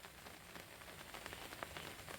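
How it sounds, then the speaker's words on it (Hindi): Rain falls on a farm during a rainy day, a steady soft patter with scattered sharper drops, fairly faint and continuous, with no talk. "दोस्तों बारिश फिर आ गई है दोबारा से"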